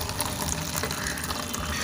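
Water poured from a small plastic mug into plant pots, a steady close splashing and gushing pour with no talk.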